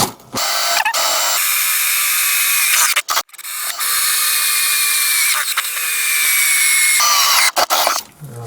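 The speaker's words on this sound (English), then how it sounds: "I'm just going to drill through now. These will be for the fixing holes." A power drill bores through a steel flange to make fixing holes, grinding in long, loud, continuous bursts broken by short pauses as the bit bites and is eased off.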